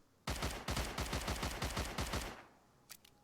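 A rapid burst of roughly ten Fort 12 pistol shots in a video game, sharp, loud and evenly spaced at a brisk automatic rate, followed by a couple of faint clicks after the firing stops.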